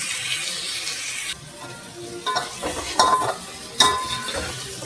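Tomatoes and onions sauté in a pan for chicken biryani, a close, continuous sizzle broken by several clattering stirs and metal scrapes of a spoon against the pan, with no voices.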